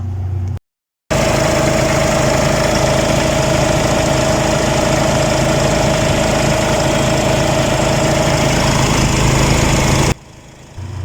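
A diesel engine with a newly installed turbo idles steadily and loudly, a constant close drone with a low rumble and a steady whine, running alone without voices before it cuts to a quieter background.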